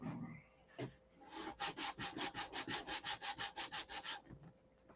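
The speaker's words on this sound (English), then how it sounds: "Time to turn the sandpaper block, I guess." Sandpaper block worked rapidly back and forth over a painted aircraft rudder, about fifteen even rasping strokes in a steady rhythm, close and loud, after a few scattered scrapes, with no talking.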